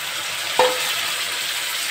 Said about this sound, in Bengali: এই যে তেল ছেড়ে গেছে, এবার আমি মশলাটা দিয়ে দিচ্ছি